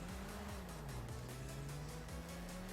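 Game engine of a car driving along a road in GTA 5 Online, a steady close drone with pitch rising and dropping through gear changes, continuous and alone without talk.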